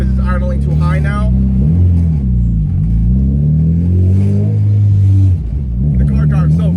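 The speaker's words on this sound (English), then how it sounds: "I'm just test driving the car." The engine of a 1999 Honda Civic with a turbocharged B-series engine, idling too high, hums and rumbles steadily from inside the cabin, its pitch rising and falling as it revs, with someone talking over it throughout.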